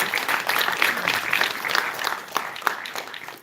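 A room full of people applauds a newly signed professional boxer at a press conference, with dense, steady clapping and a few sharp louder claps standing out near the end.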